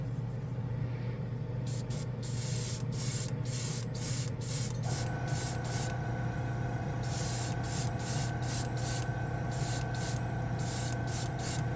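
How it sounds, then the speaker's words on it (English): Green Stuff World Pinky Blue color shift paint sprayed through an airbrush, a steady hiss over a constant compressor hum, broken into rapid short bursts in the later part; no talking. "So let's go ahead and spray it over that."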